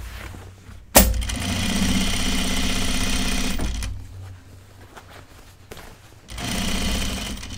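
Sewing machine stitching a seam on men's Jutland pants: a loud, close motor-driven rattle that starts abruptly, runs for about three seconds, stops, then resumes for a second burst.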